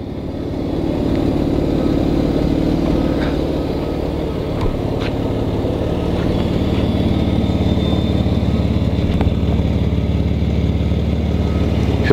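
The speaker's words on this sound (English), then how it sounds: "This car has a pretty awesome engine note." A 1993 Mercedes-Benz 190E 2.6 Sport Line runs at a steady idle, a close, even engine drone with a faint rhythmic pulse holding for the whole stretch, with no voices.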